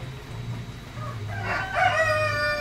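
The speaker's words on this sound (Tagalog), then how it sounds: "Itong mga brown na manok." A rooster crows nearby in a drawn-out call as hens cluck softly in the background.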